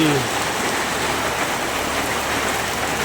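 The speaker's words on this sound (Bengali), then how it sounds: "কত বৃষ্টি" Steady heavy rain falls in a village, a thick, even wash of drops striking surfaces close by, with a short voice fragment at the very start.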